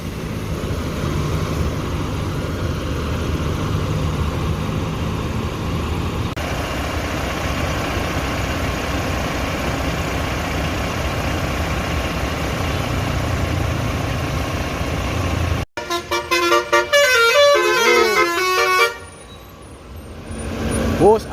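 Idling bus engine rumbles steadily at a roadside restaurant stop in Sumatra, then a loud horn blast with musical tooting near the end as a second Al Hijrah bus pulls in.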